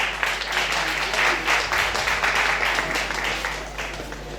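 An audience at a singing competition semi-final applauds and cheers continuously for several seconds, a dense, even wash of clapping over a low electrical hum.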